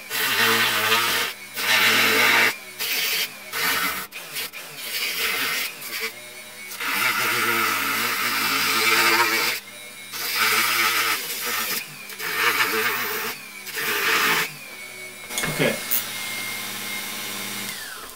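Power tool cutting through a plastic Kylo Ren helmet shell from the outside, whining in loud bursts that start and stop repeatedly with short pauses between cuts, close and alone.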